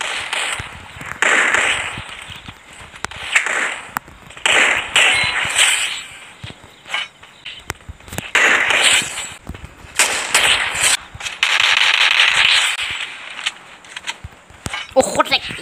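Gunfire in the mobile battle royale game Free Fire, with repeated sharp shots and bursts in clusters, loud and close, mixed with game audio and players talking.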